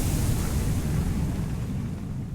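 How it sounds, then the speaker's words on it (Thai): An explosion in the video game Hollow Knight makes a steady, deep, loud rumble that fills the whole stretch without fading, with no speech. "เราระเบิดตรงนี้ทิ้งเลยนะ"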